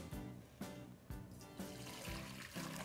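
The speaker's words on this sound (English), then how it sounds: "I'm going to add the broth back into the pot." Broth is poured back into a cooking pot, making a soft splashing trickle that swells in a few repeated surges.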